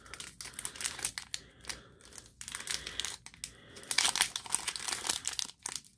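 Foil wrapper of a Pokémon Sun and Moon base set booster pack crinkling and tearing open up close, a steady run of crisp rustles and rips with louder bursts toward the end, no talking.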